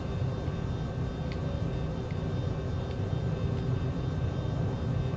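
A Maule MX-7-180 engine drones steadily in Microsoft Flight Simulator during landing, a constant low rumble with faint clicks, no voices.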